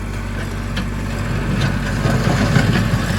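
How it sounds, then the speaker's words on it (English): A tractor in 4-wheel drive pulls forward with a loader bucket lacking a tooth bar, scraping rocky soil; a steady, loud low engine rumble runs throughout, with a gritty, rising texture in the second half. "Just like the tooth bar tractor, we are in 4-wheel drive. We'll start pulling forward."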